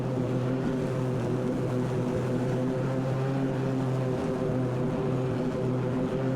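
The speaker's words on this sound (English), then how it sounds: "Your blades are gonna start spinning." A zero turn mower runs with its blades spinning, giving a loud, steady engine drone and a constant low hum that never changes, with no talking.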